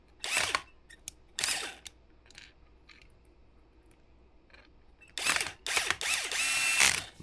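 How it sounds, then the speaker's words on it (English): Screws driven into an aux plate for a pedalboard, with short bursts of whirring and ratcheting separated by quiet gaps, then a longer, louder run of driving near the end. "I'm only going to put in a couple of screws right now as a demo."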